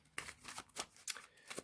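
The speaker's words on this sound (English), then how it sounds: "Dropping cards." Yu-Gi-Oh! trading cards dropping and being shuffled by hand: a quick run of soft, papery flicks and slaps, about six distinct bursts, close and fairly quiet with no voices.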